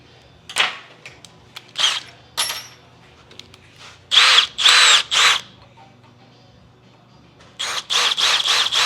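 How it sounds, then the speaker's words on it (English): Short bursts of power drilling a shallow dimple in metal, several brief whirring runs separated by pauses, close and fairly loud, with a final longer stretch of drilling. "this we're just going to drill just a little bit because we just want a dimple"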